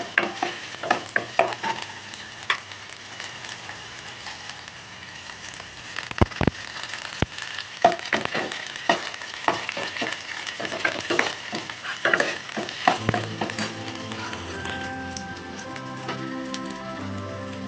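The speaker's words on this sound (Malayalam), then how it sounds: "ഇനി ഇതൊന്ന് താളിച്ചെടുക്കട്ടെ" Spices tempering in hot oil for an okra curry, crackling in a dense, steady sizzle with sharp pops and bursts of spattering throughout, close and loud with no talk.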